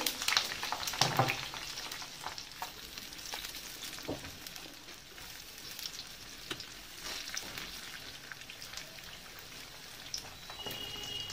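Helencha greens fritters deep frying in oil, a steady soft bubbling sizzle like light rain with a few faint clicks of a utensil.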